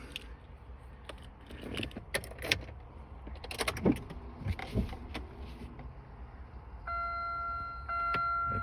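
A 2010 Chevrolet HHR sounds its warning chimes once the key goes in, a clear repeating electronic tone near the end, after scattered clicks and clunks of handling inside the car.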